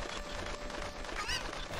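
Cuccos, the chickens of the Zelda: Ocarina of Time video game, squawk amid dense, loud game audio with a brief sharp honking call standing out near the end.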